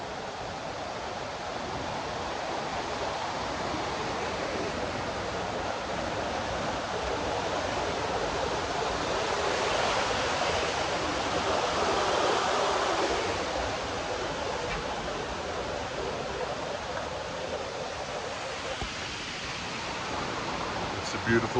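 The Simbu River rushes past continuously as a broad, steady roar at the site of a bridge under construction, with no breaks across the stretch, swelling slightly in the middle.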